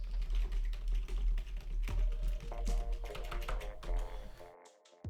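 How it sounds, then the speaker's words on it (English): Rapid, uneven clacking of computer keyboard keys goes on for several seconds, close and fairly loud over a low steady hum, ending in a brief pause and one last tap. "I love typing."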